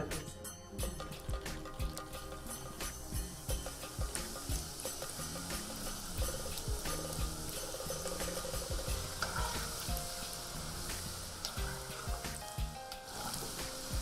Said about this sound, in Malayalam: അപ്പോൾ നമ്മുടെ എണ്ണ ഇവിടെ നല്ലപോലെ ചൂടായി കഴിഞ്ഞു. ഇനി നമുക്ക് ഗുലാബ് ജാം മിക്സ് ഇടാം.